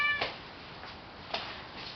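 A vocal tortoiseshell cat meows indoors, one clear moderately close meow at the start followed by fainter later cries over a soft background hiss.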